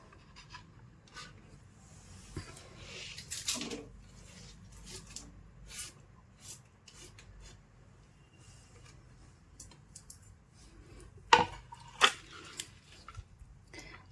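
Soft, repeated knife strokes chop sorrel leaves on a board, quiet and close, with a couple of sharper knocks near the end.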